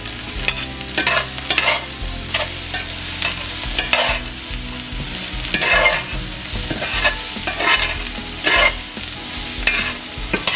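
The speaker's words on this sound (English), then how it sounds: "Add some onion here." Chopped onion sizzles in a hot frying pan while a utensil stirs and scrapes in irregular strokes, close and fairly loud, with a steady frying hiss underneath and no voices.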